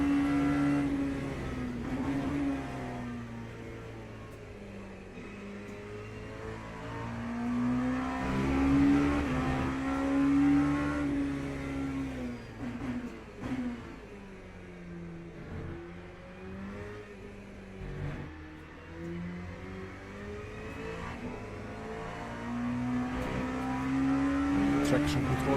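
Race car engine in the Le Mans Ultimate racing game, a prototype car droning steadily with rising and falling revs through shifts and braking over the whole stretch, while a person talks throughout.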